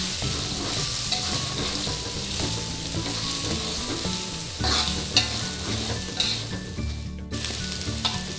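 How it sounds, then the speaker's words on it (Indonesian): Spring onion and whole chilies sizzle in a cooked spice paste while being stir-fried for an East Java petis egg dish. Steady, loud frying runs throughout with scattered clinks and scrapes of the spatula, and music plays underneath. "Sekarang kita masukkan bawang daun dan cabai wungkulnya. Kita tumis lagi."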